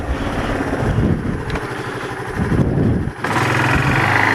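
A Kawasaki KLF300 ATV engine runs steadily as the quad backs up in reverse, a close, continuous motor drone that dips briefly near the end before resuming at full loudness.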